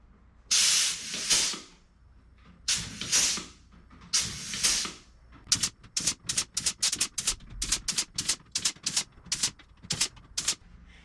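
A dimpling tool works on a Van's RV-7A fuselage skin: three long air hisses, then a quick run of sharp, evenly spaced mechanical clacks, close and fairly quiet, with no speech.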